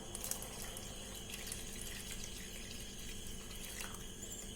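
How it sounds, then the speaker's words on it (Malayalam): Thick first-extract coconut milk pours into simmering banana pazham pradhaman payasam, a soft steady liquid trickle heard close and quiet with no talking. "അപ്പൊ നമുക്ക് ഇതിനകത്തേക്ക് ഒന്നാം പാല് ചേർത്ത് കൊടുക്കാം."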